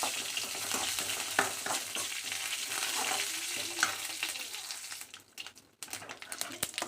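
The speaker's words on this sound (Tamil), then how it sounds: "வரமிளகா, கருவேப்பிலை தலையும் சேர்த்துட்டு" Dried red chilies and curry leaves crackle and sizzle in hot oil for a tempering, a dense, steady frying hiss with small pops and spatters that thins out briefly near the end.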